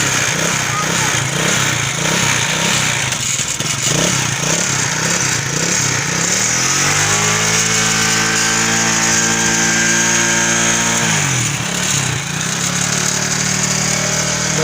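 A motorcycle engine, running again after a spark plug change, idles with a rough pulsing beat, then revs up into a rising whine that holds and drops back. A voice talks nearby over the engine.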